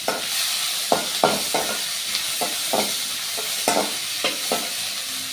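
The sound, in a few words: curry leaves sizzling in hot oil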